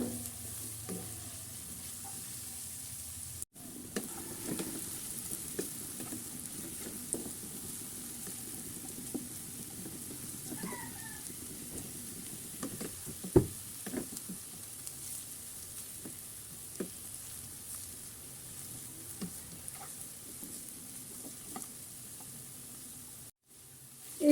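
Onions frying into crisp beresta for a chickpea curry, a steady close sizzle running throughout with occasional stirring scrapes and light clicks, no voices.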